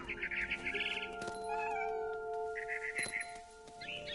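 A cat meows repeatedly in the video game What Remains of Edith Finch, the calls coming in short bursts over a steady tonal game soundtrack, with no talking.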